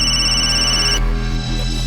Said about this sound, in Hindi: नायगांव पुलिस स्टेशन से इंस्पेक्टर साठे का फोन था।